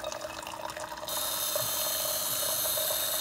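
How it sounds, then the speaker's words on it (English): Water pump of a Keurig K-35 compact coffee maker with a brewing fault switching on, a sudden steady high whirring hum that jumps in loudness after a second and runs on continuously, close to the microphone. "And that noise you're hearing was this pump."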